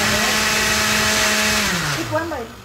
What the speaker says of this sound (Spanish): otra vez lo voy a batir tantito más